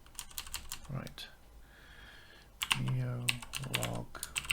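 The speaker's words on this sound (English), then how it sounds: "What am I typing?" Someone types on a computer keyboard while writing C++ code, quick clusters of crisp keystrokes in bursts, with a short pause and a person talking partway through.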